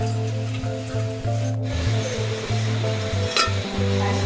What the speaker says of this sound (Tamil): இப்போ ஒரு பத்து நிமிஷம் மூடி போட்டு மூடி வச்சு வேக விடலாம்